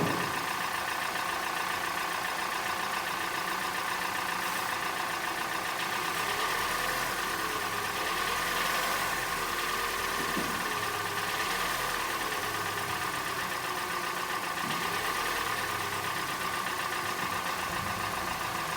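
A Hyundai Elantra engine with a stalling problem idles steadily, giving a constant mid-pitched hum with a faint whine on top. It holds at an even level throughout, with no talk over it.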